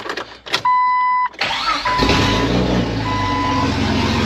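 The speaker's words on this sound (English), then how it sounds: "Let's see how she cranks." A car engine, just repaired, cranks briefly and then catches and settles into a steady idle, close and fairly loud after a short electronic chime at the start.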